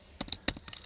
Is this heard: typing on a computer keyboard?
yes